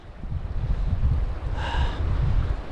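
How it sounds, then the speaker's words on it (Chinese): A fast, flood-swollen glacial river rushes in a steady, close roar of broadband water noise at high altitude in Tibet, with wind buffeting the microphone and a brief tonal whine partway through. "河水很急啊。"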